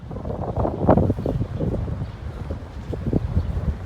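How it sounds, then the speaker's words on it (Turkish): Steady, heavy wind noise buffets the microphone throughout, a dense low roar with gusty swells and no voices, at the entrance gate of a college campus in Çanakkale, Turkey. "Çok fazla rüzgar var"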